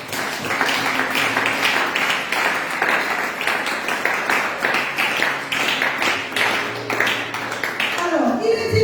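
A church congregation claps together in a steady, dense rhythm while acclaiming the Lord, with voices joining in over the continuous applause and the sound fading near the end.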